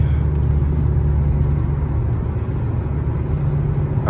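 A Dodge Challenger SRT8 cruises on Highway 83, its steady low engine and road rumble droning evenly from inside the car with no breaks.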